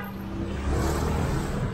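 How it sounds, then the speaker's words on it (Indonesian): Dense road traffic on Jalan Basangkasa in Seminyak, Bali, a continuous close engine drone with a vehicle swelling louder midway, heard briefly without speech. "lalu lintasnya di Jalan Basangkasa ini cukup ramai ya, bisa dilihat sendiri"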